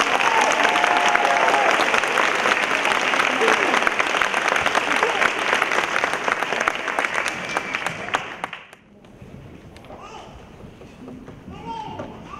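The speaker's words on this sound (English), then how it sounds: "Let's hear it for Pablo." An audience at a middle school spring concert claps loudly for about eight seconds, then the applause cuts off abruptly into a quiet room.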